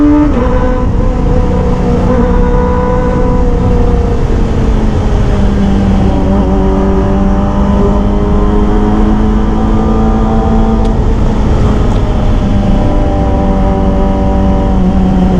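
A Kawasaki ZX25R motorcycle pulls out to overtake a car on the road, its loud engine rising and falling in pitch through repeated revving surges over constant wind roar, recorded from the rider's position.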